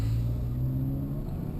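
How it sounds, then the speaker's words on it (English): Toyota RAV4 AWD driving over a very rough road in Atlanta, heard from inside the cabin as a steady low engine and road rumble with a faint whir and no talk. "So we are on a very rough road in Atlanta."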